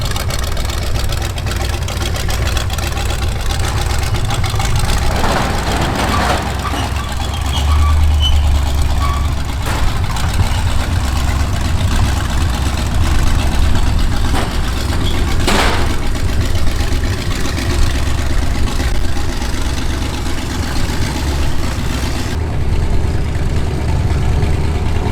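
A rat rod's engine runs loudly and steadily close by before a burnout, a rough continuous rumble with a couple of brief sharp noises mid-way and faint voices in the background.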